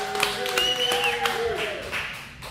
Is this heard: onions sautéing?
no